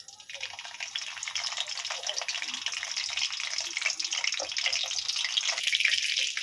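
Pointed gourd (potol) sizzling as it goes into hot white oil in a kadai, a steady bright crackling hiss that builds slightly and carries on throughout, close and fairly loud.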